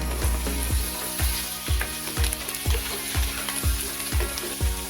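Potatoes for Aloo Bhatinda sizzling as they sauté in a pan, a steady frying hiss broken by regular scraping strokes of a spatula stirring in a repeating rhythm, with no voices.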